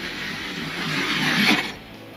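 Toy race cars, a Corvette C8R and a BMW M5, roll down a track in a heat: a smooth rolling rumble that builds and peaks before cutting off abruptly near the end.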